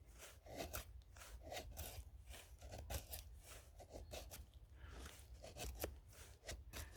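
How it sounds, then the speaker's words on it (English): Cold Steel Spartan knife blade carving shavings from wood, heard as a run of close, dry, rasping strokes repeating in an uneven rhythm, quiet and with no talking. "So this knife is really good at making shavings."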